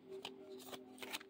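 A tarot card deck is shuffled in short riffling bursts, three or four quick crisp flutters close by, with a low steady hum beneath.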